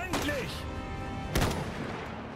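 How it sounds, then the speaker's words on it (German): A grenade blast in the video game Iron Harvest, one sharp explosive crack amid ongoing battle rumble and scattered gunfire, moderately loud over a busy game soundscape. "Granate."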